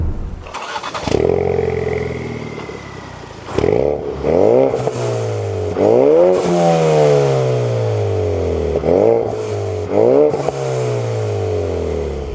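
A Ford Focus RS engine revs hard through several rising gear pulls, each climbing in pitch then dropping at the shift, loud and close.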